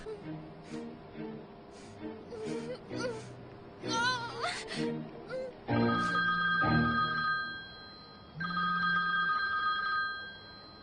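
A telephone rings in repeated electronic bursts amid a domestic scene, with a voice and gasps in between and the ringing growing louder and steadier toward the end.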